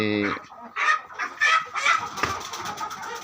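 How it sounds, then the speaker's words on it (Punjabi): Rhode Island Red hens cluck and squawk excitedly, close by, in a busy overlapping flurry with a brief voice at the start. "ਕਾਲੀ ਮੁਰਗੀ ਲਾਲ ਮੁਰਗੀ ਆਰ ਆਈ ਆਰ ਤੇ ਬਲੈਕ ਕਸਟਰਲ"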